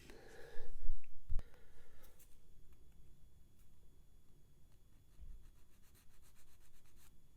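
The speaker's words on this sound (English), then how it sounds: "I'm just going to sand it down slightly until it fits" Soft, steady rubbing and scraping as a small Lancaster B.III bomber model kit part is sanded to fit, quiet and close, with a few light knocks and no talking.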